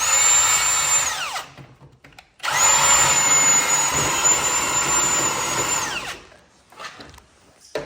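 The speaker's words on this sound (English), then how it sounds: "We are drilling a hole now" A power drill bores a bolt hole, whining loudly at a steady high pitch for over a second, then stopping briefly before running again for several seconds and spinning down.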